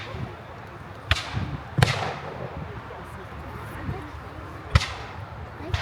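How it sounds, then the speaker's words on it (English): Muskets fire at a War of 1812 battle re-enactment of Stoney Creek, with three sharp, distant-sounding bangs spaced seconds apart, each leaving a short echoing tail over open-air background noise. "See, they're shooting. They're shooting down there."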